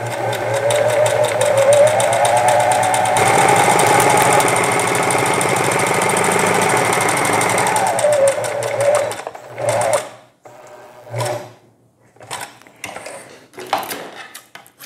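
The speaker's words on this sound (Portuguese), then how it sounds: "agora eu vou passar o zigue-zague em volta dela toda" A sewing machine zigzag stitches around the edge of a fabric cushion, running loud and steady for about nine seconds, then breaking into short stop-start bursts with quiet gaps.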